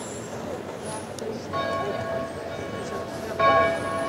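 Church bells ring at Spui in Amsterdam, faint and distant over busy street ambience, their tones growing clearer partway through with a brief louder moment near the end.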